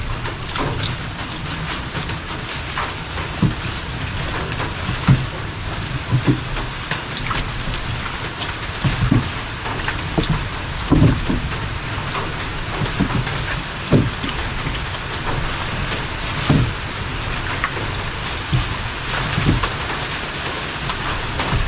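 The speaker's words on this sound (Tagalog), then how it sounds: "Magdamag na ulan na yan oh" Steady rain falls continuously, a dense hiss of drops with occasional louder taps on a nearby surface.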